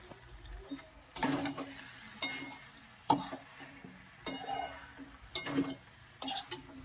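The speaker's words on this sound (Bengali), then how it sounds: "পনির দেওয়ার আগে দেবো হচ্ছে আর একটু ক্যাপসিকাম দিয়ে নেড়ে নেবো" A spoon scrapes and stirs a cauliflower, potato and capsicum curry in a pan, with about six distinct scraping strokes in an even rhythm over a quiet kitchen background.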